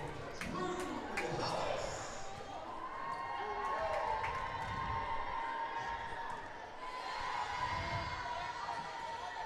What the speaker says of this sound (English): Crowd's getting riled up.